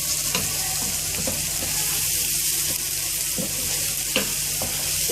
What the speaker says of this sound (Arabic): مع الثوم والبصل، هديها تقلبتين